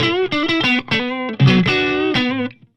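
An electric guitar plays through a Peavey Classic 30 amp clone into a classic 4x12 cabinet with the reverb turned well up, giving a loud, distorted run of notes and chords that rings out and decays at the end.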